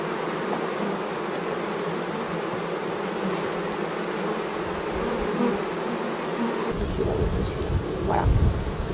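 Honeybee colony buzzing at a hive during royal jelly harvesting, a dense, steady drone close to the microphone that grows rougher and louder near the end.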